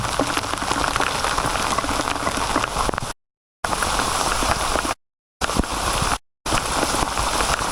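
Steady rain falls on a mountain trail on Gunung Kembang, a close, even hiss and patter that carries on with several brief silent gaps.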